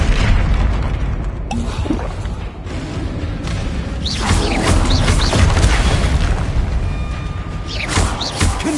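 Magic spell explosions in Hogwarts Legacy, including the Confringo fire spell: repeated loud booms and crackling bursts over a dense, busy game backdrop, with brief whooshing sweeps between impacts.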